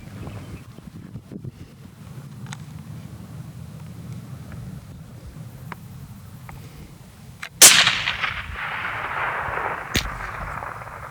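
A long-range rifle fires at a target about a mile away, one loud sharp crack about two thirds through, followed by a lingering rumble over wind noise, then another fainter bang.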